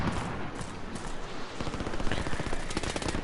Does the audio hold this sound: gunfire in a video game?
yes